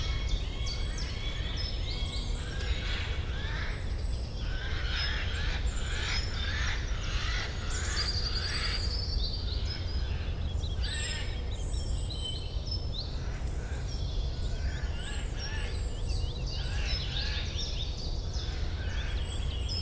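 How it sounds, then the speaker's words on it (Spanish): Forest birds sing in a continuous, layered chorus of chirps and whistles over a soft steady background, moderately distant and fairly quiet, with no voices. "comienza a escuchar los cantos melódicos de los pájaros"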